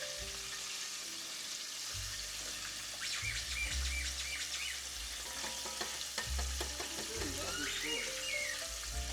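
Marinated chicken frying in hot oil at home, a steady crackling sizzle with bursts of spattering pops and some low rumbling handling noises in between.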